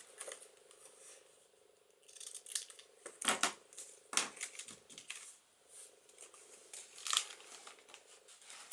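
Scissors trim paper for a holiday journal, giving a few close, crisp snips in short clusters with soft paper rustling between them.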